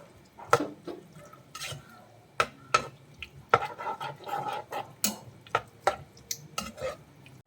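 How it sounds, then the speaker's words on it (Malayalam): A spoon stirs thickened cauliflower gravy, bound with cornflour, in a pan for chilli gobi, scraping and clacking against the metal in irregular close strokes over a soft bubbling. "ഇത് നന്നായിട്ടൊന്ന് ഇളക്കി കൊടുക്കാം."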